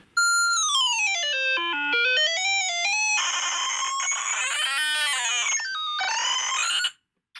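A ZX Plectrum phone app plays ZX Spectrum-style tape loading tones, bending the pitch by finger into shrill, wavering electronic beeps. The tones are loud and continuous, run for about seven seconds with no talking, and cut off abruptly near the end.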